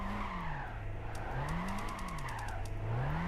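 In Gran Turismo 5, a Jaguar XKR engine drones steadily, its pitch rising and falling in smooth sweeps as the car is driven and drifted. Tire squeal hisses over the engine, with no talking.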